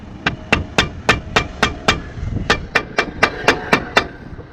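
About fourteen sharp metal hammer blows ring out in an even, quick rhythm, driving a brake part into the steering knuckle of a Chevy Astro during a brake job, loud and close.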